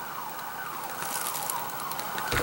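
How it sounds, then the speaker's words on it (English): A wailing emergency siren rises and falls steadily in the distance, heard alone without talk, growing slightly louder toward the end. "There goes the siren again."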